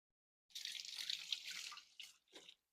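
Mushrooms rinsed under a running tap, a faint hissing stream of water starting after a short silence, then briefly interrupted and resumed in a couple of short bursts.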